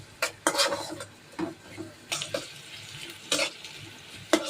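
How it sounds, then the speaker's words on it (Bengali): Onions frying with spices in a home kitchen pan, stirred in bursts: scraping, sizzling strokes come every second or so over a soft steady crackle, fairly close and moderately loud, with no talking. "পেঁয়াজটা ভেজে নিব।"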